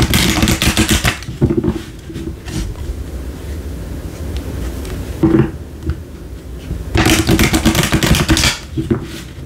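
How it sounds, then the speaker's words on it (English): Rapid riffling and flapping of tarot cards being shuffled, in several loud bursts separated by quieter handling sounds. "Let me shuffle one more time"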